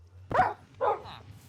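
Two short, sharp dog barks in Minecraft, close and fairly quiet, spaced about half a second apart over a low background hum.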